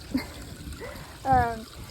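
Water trickles and splashes softly from a small waterfall into a hand-dug garden pond, a faint continuous burble with brief voice sounds over it.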